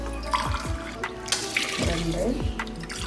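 Water pours and splashes into a pot of basmati rice being cooked for kuska, a steady gurgling stream with small clunks, heard under a voice talking over it.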